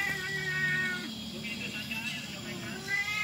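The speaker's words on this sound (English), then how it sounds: "Oh, you complaining cats" Several cats meow and complain in a tropical Borneo night setting, their drawn-out calls close and clear over insect and frog chirring, with a person speaking at a low level.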